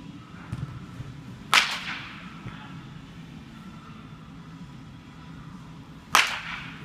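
Two sharp, crisp cracks of a bat making solid contact with a baseball during batting practice, a few seconds apart and close by, set against quiet outdoor background noise.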